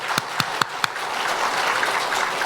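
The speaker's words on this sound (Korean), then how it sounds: "박수로 축복하겠습니다." A church congregation claps together in a steady roomful of applause, opening with a few distinct loud claps before settling into a dense, even patter.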